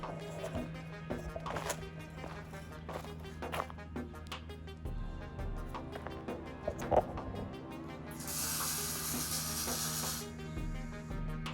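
A can of spray foam hisses out in a steady, faint stream behind quieter handling noises, then gives one louder, broader burst of spray near the end.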